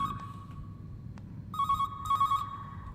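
In the horror video game Calling, a phone rings with a repeated electronic trill in two bursts after a faint steady tone, fairly quiet and with no talking.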